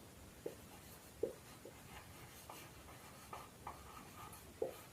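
Pen writing a book title by hand, very faint and close: a few soft scratchy strokes and taps on paper spaced irregularly over a steady background hiss.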